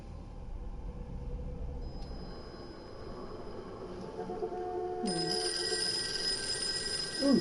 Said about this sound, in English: Ooh, phone's ringing in.